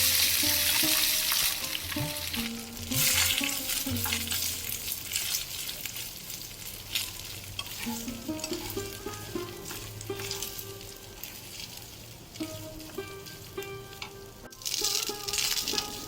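Cooked rice is tipped into a hot pan for sesame rice and stirred, giving a busy sizzle with scraping and rattling of the spoon, loudest at the start and again near the end.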